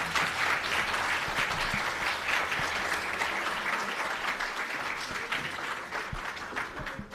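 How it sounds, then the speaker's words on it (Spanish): An audience at a university information technology event claps for a visiting doctor, producing sustained, even applause close by that fills the room with no talk over it. "démosle un aplauso al doctor"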